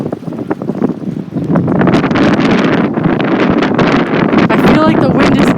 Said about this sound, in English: I feel like the wind is just getting worse.